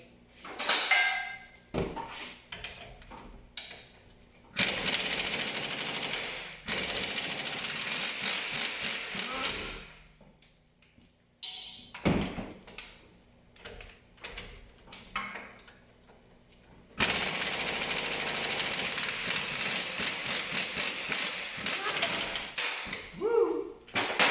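Strut-to-knuckle bolts come loose on a Hyundai Elantra during a front strut replacement, with several loud, sustained bursts of a power tool separated by quieter pauses of clinking and handling, and some talk.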